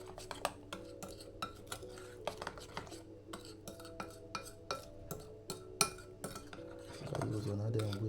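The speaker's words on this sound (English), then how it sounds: "Just mix this together." Whisk beating banana fritter batter in a bowl, a quick series of light metallic clinks and taps against the bowl, close but quiet, ending in a brief soft rustle.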